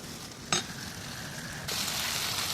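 Sliced potatoes and peas sizzle steadily in a pan with cooked onion and tomato, a close continuous frying hiss with one brief clatter, growing a little louder near the end.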